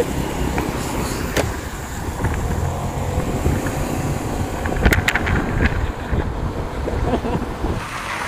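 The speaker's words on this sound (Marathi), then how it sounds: "आला वारा." Strong wind gusts roar and buffet the microphone near a waterfall as rain moves in, a continuous rough rumble that stays loud throughout.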